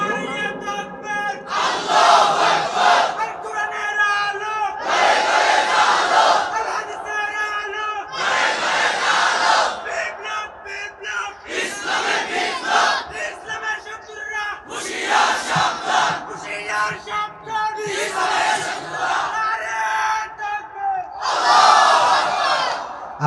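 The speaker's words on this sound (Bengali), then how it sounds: "যে কোনো একজন দাঁড়িয়ে তাকবীর দেন, যে কোনো একজন দাঁড়িয়ে তাকবীর দেন দেখি" A large crowd at a sermon shouts takbir in loud, repeated collective bursts, each roar separated by brief pauses, with no one speaking in between.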